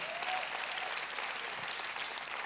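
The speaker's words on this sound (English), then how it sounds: "go ahead and give the Lord a big clap." A large church congregation claps steadily in dense, sustained applause that fills the whole stretch, at an even level and without a break.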